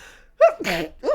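A single sharp sneeze, loud and close, preceded by a brief vocal 'ooh' and followed by a short breathy sound.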